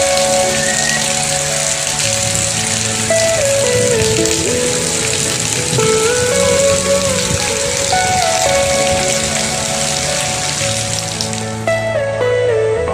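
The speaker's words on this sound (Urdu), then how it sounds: "بارش کی یہ مناظر دیکھ رہے ہیں۔" Heavy rain falls steadily and loudly, a dense continuous hiss close by, with a musical melody playing over it throughout.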